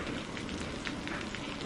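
Heavy rain pours steadily and loudly, a dense unbroken wash of drops drumming on surfaces throughout, with no voices over it.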